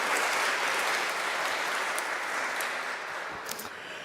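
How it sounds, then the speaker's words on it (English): A church congregation applauds in a dense, sustained wash of clapping that fills the room and slowly tapers off, with no clear speech over it. "Can we just get a round of applause?"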